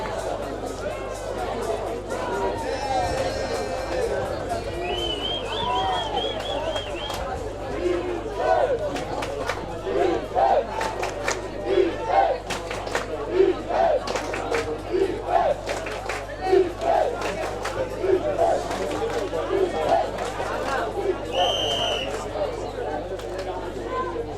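A crowd at a European ultimate frisbee semifinal between Belgium and Germany cheers and shouts steadily. Rhythmic chants and claps come in bursts, and a commentator talks over it.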